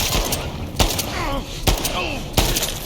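Gunshots in The Last of Us Part II: three sharp, loud single shots spaced out over a few seconds, with faint background noise between them.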